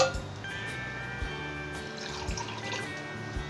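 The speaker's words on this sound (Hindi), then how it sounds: "थोड़ा सा ग्लासों में डालेंगे" Lemon drink pours into glasses with a soft, steady liquid trickle at close range, some faint clinks of glass over low background hum.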